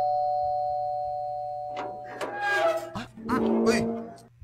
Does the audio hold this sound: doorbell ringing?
yes